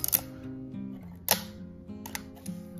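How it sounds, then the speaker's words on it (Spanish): Quiet mechanical clicks from a Yashica Electro 35 GTN rangefinder camera's leaf shutter, a few soft ticks spread over a few seconds, faint and close with no talk. "El obturador es silencioso, como escuchasteis en el vídeo anterior. Ese es el ruido que produce."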